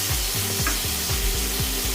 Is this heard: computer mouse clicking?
no